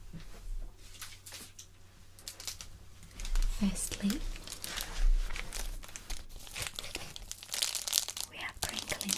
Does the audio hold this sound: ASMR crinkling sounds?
yes